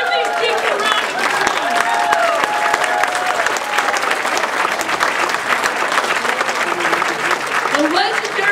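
A crowd applauds volunteer box carriers at a Wisconsin political event, sustained dense clapping that stays loud and even throughout, with voices faintly mixed in.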